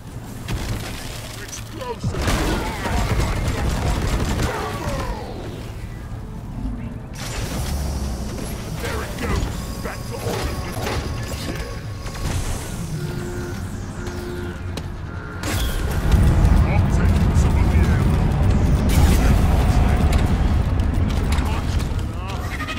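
A cargo rocket launches in Deep Rock Galactic with a long, loud roaring rumble and mechanical creaks, swelling into a heavier blast partway through, with game voices speaking over it.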